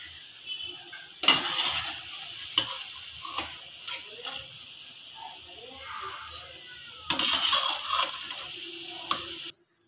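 Fried palm fritters lifted out of hot oil, a low bubbling sizzle broken by two louder bursts of clattering and scraping of a slotted spoon against the pan, ending abruptly.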